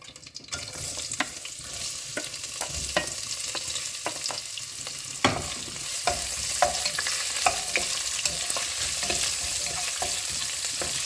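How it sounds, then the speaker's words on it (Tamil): Onions sautéing in a pan with bay leaf, cinnamon, star anise, cloves and cardamom for mushroom biryani, a steady close sizzle broken by scraping stirs and occasional sharper clinks of the spatula. "இது கொஞ்சம் வதங்கட்டும்"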